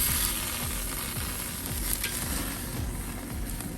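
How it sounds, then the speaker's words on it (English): New York strip steak sizzles steadily on a Weber kettle grill, a loud continuous frying hiss with faint scraping ticks as it is flipped, no voices. "So now we're gonna flip it."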